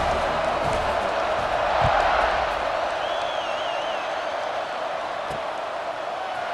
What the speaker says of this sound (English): kick it off, and this crowd now ready to get behind them